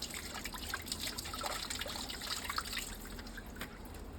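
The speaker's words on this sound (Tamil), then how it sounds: "உப்பு மஞ்சளும் போட்டு நல்லா கழுவி எடுத்துக்கலாம்." Sea fish is washed in water with salt and turmeric, giving a continuous trickle and splash of liquid with soft dripping and no talk over it.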